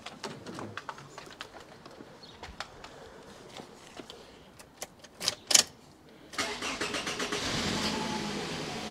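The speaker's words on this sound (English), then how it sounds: "So as you can see, the engine is vibrating. It's actually running on only three cylinders right now." A car engine is started and then runs rough with a cylinder misfire, running on only three cylinders; after scattered clicks and knocks, a dense, steady engine roar takes over for the last few seconds, close and fairly loud.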